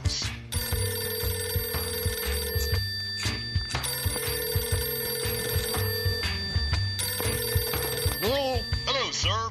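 Telephone bell ringing on a cooking show's phone-in segment, a loud repeated electronic ring in bursts with short gaps, ending in warbling tones, no talking over it.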